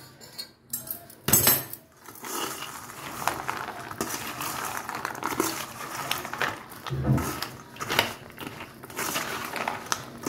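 Gavvalu dough pieces are stirred in hot sugar syrup in a metal pot, with repeated clinks and scrapes of a spoon against the pot, close and alone, plus a brief louder clatter early on.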